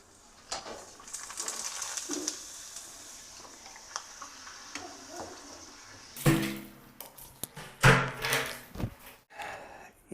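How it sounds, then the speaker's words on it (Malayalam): Coconut oil hisses softly in a pan for several seconds, then loud crackling bursts of pappadams frying and clattering utensil knocks take over near the end. "ഒരു രണ്ട് മൂന്ന് പപ്പടം നമുക്കൊന്ന് വറുത്തെടുക്കാം"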